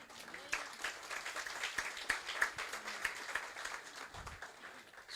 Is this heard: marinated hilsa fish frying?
no